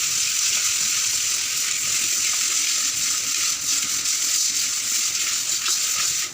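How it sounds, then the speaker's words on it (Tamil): Fish pieces being rinsed in water in a home kitchen, a steady broadband splashing and running-water wash that holds continuously, close and fairly loud, with no talking over it. "கழுவி 2-3 தண்ணியில் கழுவி எடுத்துக்கணும்."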